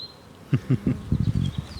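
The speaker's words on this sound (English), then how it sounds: "There's a bee on my recorder." Honeybees from a package box of about five thousand bees with a queen buzz close to the recorder, in uneven bursts and swells of droning hum over roughly two seconds.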